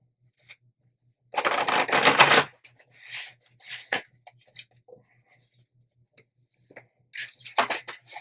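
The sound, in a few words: shuffling tarot cards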